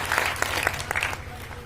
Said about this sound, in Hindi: एक बार जोरदार ताली अपने भाई के लिए बजा दीजिए।